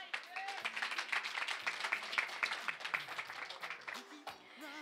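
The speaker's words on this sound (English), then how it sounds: "Clap him." Wedding guests clap for the groom in a room, uneven hand claps that are close and lively, with voices and a few whoops mixed in before they taper off.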